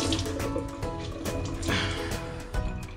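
Tap water runs and splashes while laundry is rinsed by hand in a hotel room sink, a close, continuous gush with sloshing as the wet clothes are worked.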